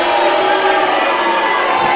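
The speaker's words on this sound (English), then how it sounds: "And the crowd showing exactly what they think of Ricky Utomi here." A wrestling event crowd roaring and cheering, a dense, loud, sustained wash of voices filling the arena, heard without commentary over it.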